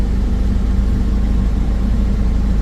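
A new 2024 Ashok Leyland 22-seater non-AC bus idles with a steady low rumble, its engine drone continuous and close throughout with no other sounds.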